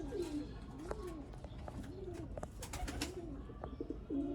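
Zeera breed pigeons cooing close by, repeated rolling coos in a steady rhythm with a few short chirps mixed in, no talking.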